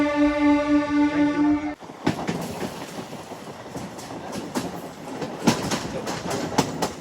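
A Renigunta to Nellore MEMU passenger train opens with a loud, sustained horn blast, then settles into steady rolling rumble with repeated clicking wheel beats over rail joints, heard from on board.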